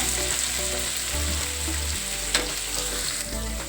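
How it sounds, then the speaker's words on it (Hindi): Chopped tomatoes fry in hot oil in a pan for a Hari Matar Ki Sabji, sizzling steadily while a spoon stirs and scrapes through them with occasional knocks. There is no talk. "चलाते हुए अच्छे से फ्राई करेंगे टमाटर को भी।"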